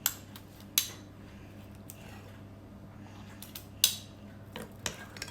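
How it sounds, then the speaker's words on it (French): Quiet kitchen scene with sharp metal spoon clinks and scrapes against a bowl as muffin batter with dates, oats and coffee is spooned into paper cases, several isolated taps over a soft background hum. "Donc je prends mes caissettes et je vais les remplir"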